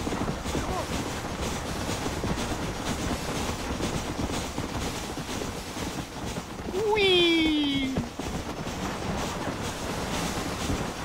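A train rolls past in the Red Dead Redemption video game, a continuous rumbling clatter of wagons with a brief whistle-like tone in the middle, while someone talks over it.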